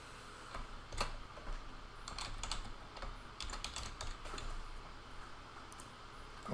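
A password is tapped out on a computer keyboard, quick soft clicks in irregular bursts, close and quiet with no talking.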